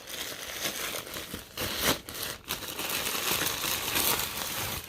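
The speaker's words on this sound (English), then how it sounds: "let's rip that open." Plastic package bag being torn and ripped open, a loud crinkling, crumpling rustle that runs continuously with a couple of sharper tearing bursts partway through.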